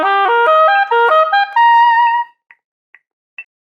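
An oboe plays a syncopated passage from an all-region audition etude, quick stepping notes for about two seconds, ending on a held tone, then three short detached notes, close and alone.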